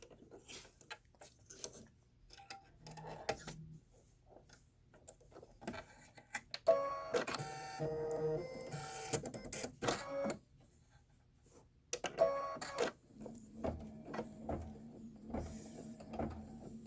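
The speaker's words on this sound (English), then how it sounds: "there is a black flagpole. Let's go ahead and stitch that." An embroidery machine stitches a black flagpole detail on a fire station design, its needle clattering in rapid mechanical bursts that start and stop, loud and close, with no talk.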